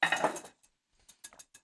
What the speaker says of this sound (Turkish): Al Serpil, bunu arkaya kaldıralım. Aynı tabak zaten.